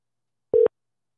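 One short, steady electronic telephone tone plays alone, clean and close, while a call goes through to voicemail, with silence on either side.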